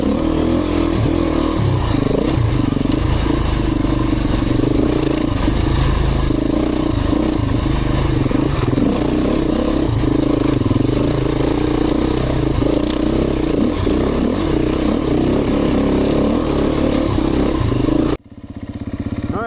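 Beta 350 RE dirt bike ridden along a single-track trail, its engine droning and revving continuously at close range with rattles and scrapes from the terrain, no talk, cutting off abruptly near the end.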